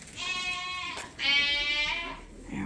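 Two drawn-out, quavering sheep bleats follow each other closely in a barn on a Canadian sheep farm, loud and near, with a soft rustle at the end.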